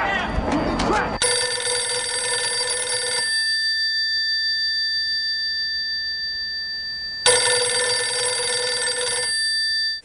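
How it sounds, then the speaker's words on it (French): A telephone rings in two long bursts of bright, buzzing bell tone separated by a pause of quiet, loud and close, with a brief muffled noise before the first ring. "j'ai reçu un coup de téléphone du FBI"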